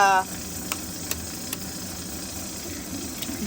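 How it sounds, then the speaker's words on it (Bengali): Eggs fry in a pan with a soft, steady sizzle and hiss, broken by a few faint pops. A brief voice sounds right at the start. "এখন আবার হবে ডিম ভাজা।"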